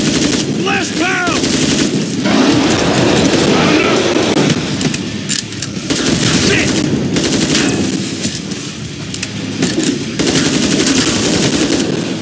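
Rifle gunfire in a video game rattles in rapid, continuous loud bursts over dense game noise and effects, with voices occasionally heard.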